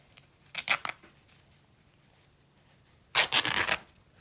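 Fabric strip torn by hand for a sewing-themed junk journal: two short rasping rips, a brief one followed by a longer, louder tear, close up with quiet in between.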